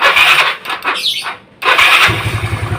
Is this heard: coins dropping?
no